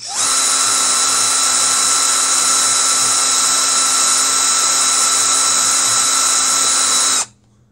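A power drill with a dull bit whines steadily at high pitch for about seven seconds, loud and close, then cuts off abruptly.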